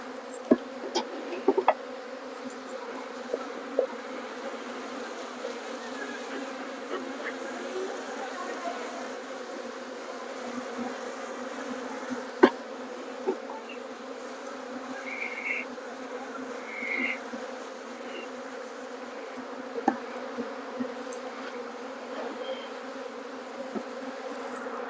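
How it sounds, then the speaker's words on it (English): Honeybees buzz continuously around an opened hive during an inspection, a dense close drone with occasional louder passes near the listener and small sharp clicks from handling frames. "My bees are acting up."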